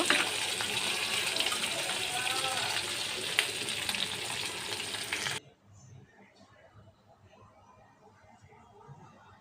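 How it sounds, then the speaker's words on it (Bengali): Hilsa fish pieces frying in hot oil, a loud, close, crackling sizzle that cuts off abruptly partway through, leaving quiet room noise. "তো মাছগুলোকে সুন্দর করে ভেজে নিলাম"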